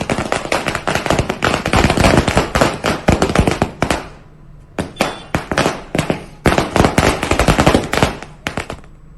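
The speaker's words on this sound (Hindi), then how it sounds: "कार्यकर्ताओं ने जमकर आतिशबाजी की" Fireworks crackle and burst in rapid, dense volleys at a BJP election victory celebration in Uttarakhand, loud and close, with a short lull before more rattling strings of bangs resume.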